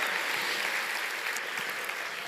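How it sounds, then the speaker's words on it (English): A short, even wash of audience clapping at a queer storytelling night runs throughout at moderate loudness, with no voices. "we're just clapping everything today"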